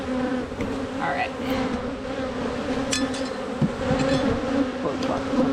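Honey bees buzz steadily and close during a weekly hive inspection, a dense continuous drone with a few brief louder passes near the microphone and faint background noise.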